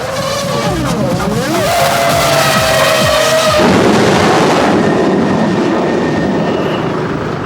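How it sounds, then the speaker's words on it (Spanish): Formula 1 race cars roaring past on a track, loud engine whine with a pitch sweep as one car passes close, followed by a dense sustained rush of engine and track noise. "Entre el ruido de los motores y los coches que pasan a toda velocidad por la pista es imposible escuchar o hablar."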